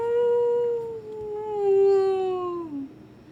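Long keening howl from a mastiff used as a tabletop game sound effect, a single sustained tonal wail that holds, slowly sinks in pitch and trails off, loud and close with no talk over it.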